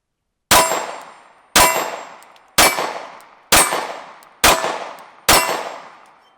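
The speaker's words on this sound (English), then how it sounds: "Next up, the 9mm out of the Glock 43." Six evenly spaced single shots from a 9mm Glock 43 subcompact pistol, each a sharp, loud crack followed by a short decaying ring, about one second apart, with no talking.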